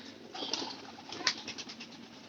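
A pigeon cooing nearby, a few soft throaty coos in a short repeating rhythm over faint background hiss, no speech.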